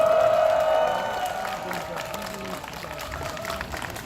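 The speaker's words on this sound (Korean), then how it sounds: "우리 서로에게 큰 박수와 함성 부탁드리겠습니다" Crowd at a student protest rally in Seoul applauds and cheers, a loud sustained roar of clapping and voices that eases slightly after the first second and carries on, with a tone or whistle sounding briefly at the start.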